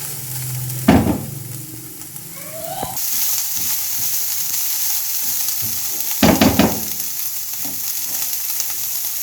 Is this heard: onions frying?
yes